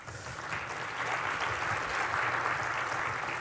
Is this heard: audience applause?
yes